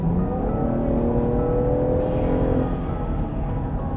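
Cabin of a 2020 Land Rover Defender 110 pulling out to pass, with steady engine and road noise building as it accelerates; a faint pulsing tick sounds in the second half.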